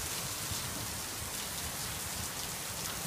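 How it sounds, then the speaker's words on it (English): Heavy rain pours steadily outdoors behind a house, a dense, continuous hiss of drops on surfaces with no breaks, loud and close throughout. "it's raining real bad"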